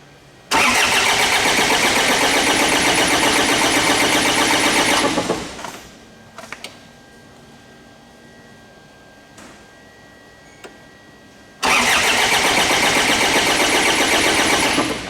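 A Ford Ranger / Mazda BT-50 engine cranking without starting: two loud, rapid, even starter-motor churning bursts of several seconds each with a quiet gap of faint clicks and ticks between them, close up.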